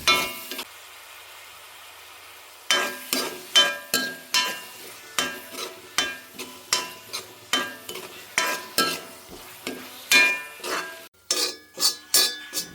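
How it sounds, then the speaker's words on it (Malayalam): A spatula scrapes and clinks rhythmically against a pan about once a second, stirring tomatoes over a soft sizzle; no voices. "തക്കാളി നന്നായിട്ട് വഴറ്റിയെടുക്കാം"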